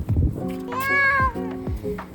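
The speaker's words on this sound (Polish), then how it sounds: "Kotek poleciał, tak?" A cat meows close by, one long rising-and-falling tonal call followed by shorter cries, loud and clear over faint background rumble.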